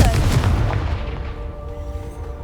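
A Confringo fire-spell blast from Hogwarts Legacy hits with a loud, close boom, then a rumbling tail fades away over a couple of seconds.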